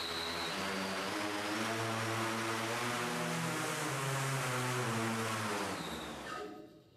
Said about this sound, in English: restarting data acquisition and starting motors now